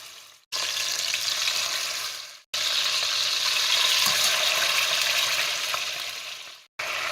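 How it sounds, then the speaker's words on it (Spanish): Beef cheeks fry in hot oil in the bottom of a pressure cooker, giving a loud, steady, close sizzle that crackles continuously, broken only by two brief silent gaps. "En esta olla de presión pondré aceite que cubra el fondo Cuando esté caliente, iré poniendo las carrilleras."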